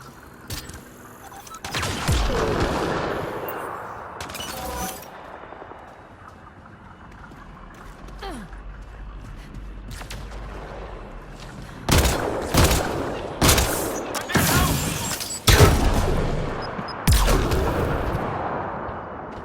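Sharp gunshots and bursts of weapon fire crack out in the sci-fi shooter game Mass Effect Andromeda, scattered early and then in rapid clustered volleys near the end, loud and close over quieter ambient stretches.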